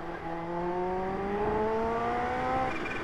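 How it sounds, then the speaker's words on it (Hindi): A modified Kawasaki Ninja H2 engine with a whistling whine rises steadily in pitch as it revs, a continuous tonal note heard up close with no voices. "ये जो वेसल की आवाज सुन रहे हो ना ये बहुत अमेजिंग है यार"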